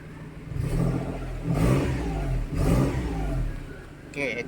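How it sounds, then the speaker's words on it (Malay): A Perodua Kancil car engine runs and revs in three rising surges, close and steady, with a brief higher whine near the end. "Kereta dah hidup."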